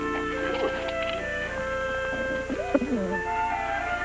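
A homing pigeon, a racing homer, coos softly in a few low warbling phrases close by, with faint background hum and a brief voice.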